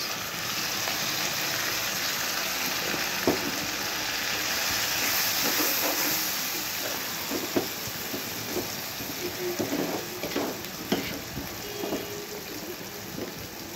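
Fried onions with turmeric, chili, salt, coriander and green chili sauté in a pan, giving a continuous soft sizzling hiss punctuated by occasional light scraping taps of stirring, heard up close without talk.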